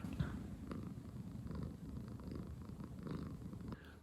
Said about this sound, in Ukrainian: зранку ліг собі і відпочиває і муркотить